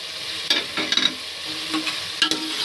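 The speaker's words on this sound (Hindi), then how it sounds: "अब ये सारे मसाले हम डाल देंगे। अब इनको भी हमने तकरीबन 2-3 मिनट" Spices being stir-fried in a pan for mash dal gosht, irregular scraping strokes of a spoon over a soft, steady sizzle, close by.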